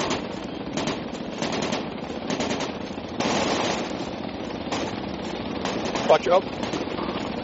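Rapid automatic gunfire rattles in bursts during a squad-based shooter video game match, steady and fairly loud, while players talk over it.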